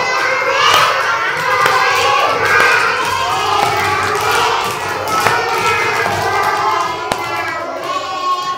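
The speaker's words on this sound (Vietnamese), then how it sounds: "Vỗ tay." An audience claps its hands at a lively home gathering with food and singing. The steady clapping blends into dense crowd noise and children's shouts, loud and close throughout, with a few sharper thumps.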